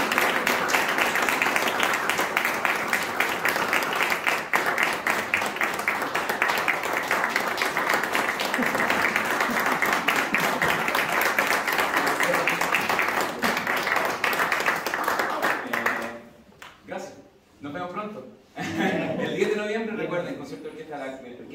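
Enthusiastic audience applause after a piano and cello concert at a university, dense sustained clapping filling the room for about fifteen seconds before fading out, followed by a few scattered claps and voices.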